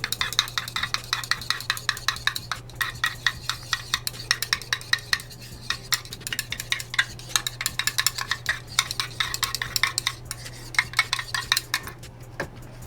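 Homemade foaming face wash being stirred and mixed in a container, with steady rhythmic clinks and scrapes of a utensil against the sides across the whole stretch, close and fairly quiet, no talking.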